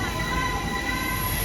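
An antique steam train runs on the line from Hua Lamphong to Nakhon Pathom in Thailand, heard up close as a continuous rumble with high wheel squeal and no talking.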